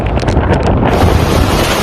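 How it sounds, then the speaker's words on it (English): Hurricane Ian's landfall winds in Florida roar as a loud, continuous buffeting that batters the microphone, with heavy gusts surging throughout and no voices. "The wind continues to ramp up."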